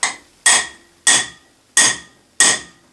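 Five sharp, evenly spaced hammer taps seat a key onto the crankshaft of an Intek 60 Edge Diamond lawnmower engine, each a close metallic strike with a brief ringing decay, no voices.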